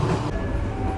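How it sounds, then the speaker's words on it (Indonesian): The Sri Tanjung passenger train runs through Porong station in Indonesia, giving a loud, close rumble with a brief thin whine from the wheels during the one-second pass. "saat ini kereta api Sri Tanjung melintas langsung stasiun Porong"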